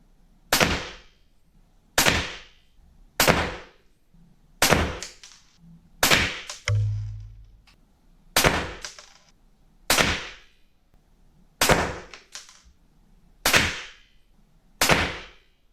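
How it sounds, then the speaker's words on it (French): Artemis PP700 air rifle of about 11 joules firing 4.5mm JSB Straton pellets, eleven sharp cracks spaced a second or two apart, each with a short decaying tail and one heavier thud among them, no talking. "j'ai terminé les tirs avec l'Artemis PP700"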